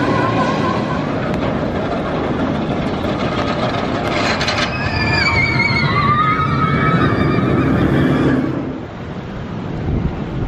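A roller coaster races along its track on a wet day, a steady rumbling roar with rattling and squealing wheel sounds that fades near the end.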